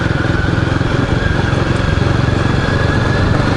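A Royal Enfield Guerrilla 450 motorcycle rolls downhill, its single-cylinder engine thrumming loud and close with a steady, even pulse under the rider.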